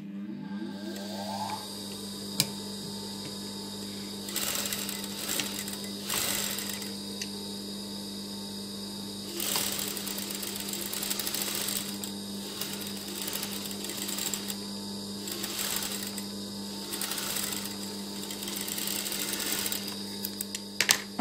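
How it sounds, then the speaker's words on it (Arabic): A sewing machine runs steadily, stitching fabric for a homemade hair band, its motor humming with a rapid mechanical chatter that stops and restarts in short bursts over a constant mains hum, with no talking. "غادي نخيط هادي من هنا لهنا"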